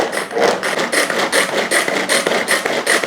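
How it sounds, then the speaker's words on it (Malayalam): A knife chops bitter gourd for thoran on a board in a steady, fast rhythm, about two firm strokes a second, each a close, crisp scraping knock with no talking. "ഞാൻ ഇങ്ങനെ കൊത്തിക്കൊണ്ടിരിക്കുന്നുണ്ട്."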